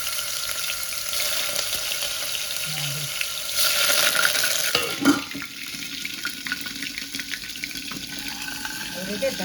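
Green chillies spit and sizzle in hot oil tempered with bay leaf and curry leaves, a steady crackling fry with a louder hiss burst midway, close and continuous with no voices.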